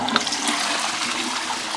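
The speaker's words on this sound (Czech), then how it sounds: "A možná ještě spláchnu." A toilet flushes up close, a loud, steady rush of water lasting a couple of seconds.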